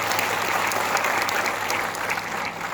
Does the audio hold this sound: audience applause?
yes